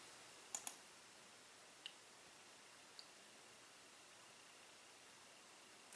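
Sharp mouse clicks in Cummins INSITE software, a quick pair near the start, two isolated single clicks after it and a final click at the end, faint and close against a quiet background with no talking.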